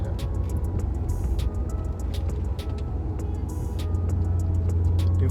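A Maserati Quattroporte driven on the road, with a steady low engine and exhaust drone plus induction noise heard from inside the cabin, rising slightly toward the end, with faint ticking clicks over it.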